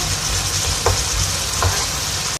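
Carrots, tomatoes and green chillies fry in a pan with salt, a loud, steady sizzle with a couple of soft stirring scrapes and no talking.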